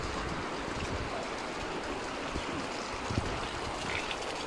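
Water from a natural spring in a rural mountain area runs steadily at close range, a constant rushing and trickling wash with no talking.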